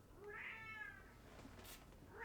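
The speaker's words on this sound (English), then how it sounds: "Why are you meowing?" A pet cat meows twice, a drawn-out rising-falling cry at first and a shorter call at the end, faint and close in a quiet room.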